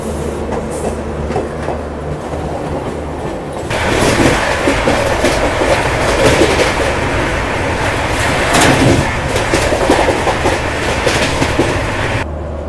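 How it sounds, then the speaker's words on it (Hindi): The Goa Express passenger train passes close by, a loud, continuous rumble with rhythmic clickety-clack of wheels on rail joints that builds as the coaches go past. "यहाँ पे गोवा एक्सप्रेस हमारे सामने से निकल रही है।"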